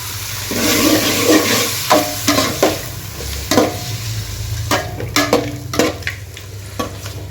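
Chicken liver frying in coconut oil with dried red chillies, a steady close sizzle broken by repeated scraping and tapping stirs against the pan, with no voices.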